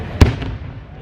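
A single sharp firework bang bursts loudly at a Fourth of July celebration in Lake Tahoe, followed by a rumbling decay and low background noise.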